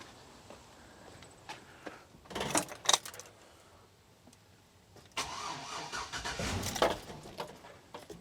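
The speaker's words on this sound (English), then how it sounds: "I'll go ahead and put the key in, see if we get it to crank over" Car engine cranking after a battery boost following a dead battery: a short, loud cranking burst, a pause, then a longer crank that catches into a rough running roar, close by with no talk.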